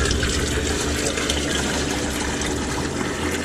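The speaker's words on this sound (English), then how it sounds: "I'm just gonna put some water in here and see what it does." Water pours steadily into the basket of a pool pump that is failing to prime, a continuous close splashing gush that stays at an even level for a few seconds.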